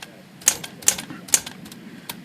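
Keys of an old Smith Corona typewriter with sticking keys being pressed, three crisp clacks at uneven intervals and a fainter fourth, close up with no talk.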